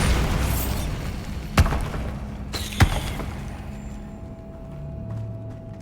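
Bombarda explosion spell in the Hogwarts Legacy video game, two sharp booming blasts about a second apart over busy game ambience, then a fading rumble.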